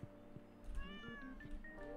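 A cat meows inside the game Stardew Valley, a couple of short rising cries over soft in-game background music, fairly quiet and close.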